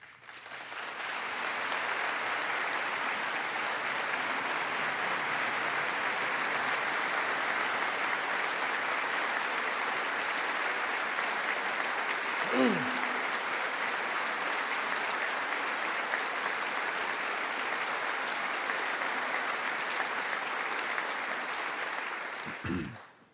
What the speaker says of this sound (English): the US Senate rising to applaud an English monarch